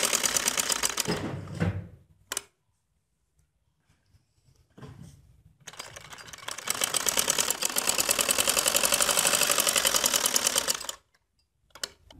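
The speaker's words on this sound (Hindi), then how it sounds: "अब यहाँ पे हम सिलाई लगाएंगे" A sewing machine stitches the neckline of a linen suit in two loud bursts: a short run, a pause with quiet handling sounds, then a long steady rattling run that stops abruptly.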